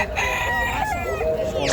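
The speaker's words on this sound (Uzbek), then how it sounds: "Xo'rosa." A rooster crows amid a busy poultry market, its long rising-and-falling call carrying over steady crowd noise and other birds clucking nearby.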